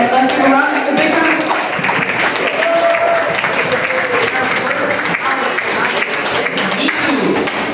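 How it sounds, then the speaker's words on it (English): Audience applause at a cafe arts fundraiser evening, a steady, fairly loud wash of clapping sustained throughout, with voices and crowd chatter mixed in underneath. "And let's give a round of applause."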